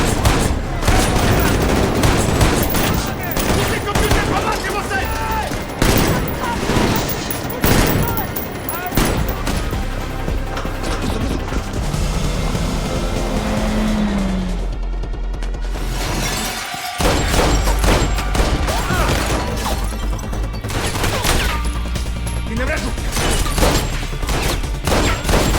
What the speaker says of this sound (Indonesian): Avery pun mulai menyusup masuk ke dalam ruangan tempat Bresnov berada dan segera menembaki ruangan tersebut